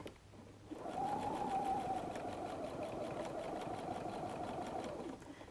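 Sewing machine stitching a seam on a messenger bag, one steady, close, continuous whirring run of about four seconds that starts and stops abruptly.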